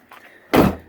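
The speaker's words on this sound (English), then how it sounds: "So now I'm going to shut the door." A Jeep Wrangler door slams shut with a single loud, close thud, preceded by faint handling noises.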